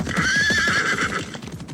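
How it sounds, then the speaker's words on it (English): Horses whinny loudly and clip-clop away in a Wild West story sound effect, a close high neigh over a quick run of hoofbeats that fades toward the end. "He cut the rope from the horses' legs and they rode away."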